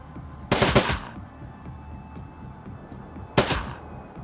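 Gunfire rings out in the tactical role-playing game Shadowrun: Dragonfall: one loud rapid burst of shots, a quiet pause, then a second shorter burst, with no voices.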